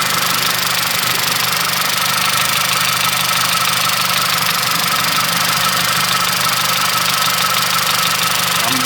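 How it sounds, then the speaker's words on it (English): An MK6 Volkswagen Jetta GLI engine runs at a steady idle, a continuous rumbling drone with a faint ticking knock throughout. "Motor sounds pretty normal."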